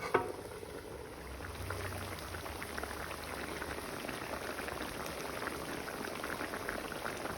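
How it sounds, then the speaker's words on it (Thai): A southern Thai curry of pork bones and lady finger bananas simmers in a covered pot, a soft, steady bubbling and low crackle running evenly from start to finish, with no one speaking. "เคี่ยวไปสักพักนะ ให้ลูกกล้วยจุกให้เนื้อหมู กระดูกหมูมันนิ่มรสชาติได้ด้วยจ้ะ"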